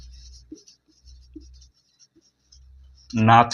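Chalk writes a sentence on a classroom board in short scratchy strokes and taps, separated by pauses over a low hum, before a voice starts speaking at the end.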